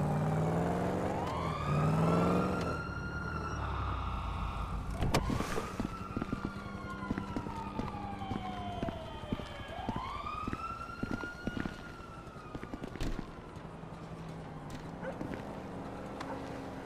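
Wailing police siren from Grand Theft Auto V gameplay, rising and falling in repeated sweeps over steady car engine and traffic noise, loud and close throughout.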